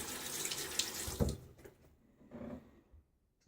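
Running tap water rinses hands at a sink while shaving, a close splashing rush for about a second and a half that tapers off, then a brief second burst of water before quiet.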